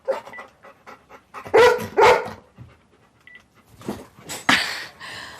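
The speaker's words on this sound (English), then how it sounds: "If he's barking at me and constantly nicking stuff and I'm having to chase him" Rhodesian ridgeback-boxer cross dog panting and giving a few loud barks, close by, in bursts with short pauses between.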